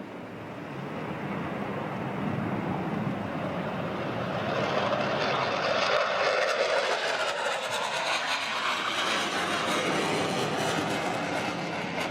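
Military jet departing low from RAF Lakenheath during afterburner week, a loud sustained roar that builds and sweeps past overhead, with broad rushing noise lasting throughout and no speech.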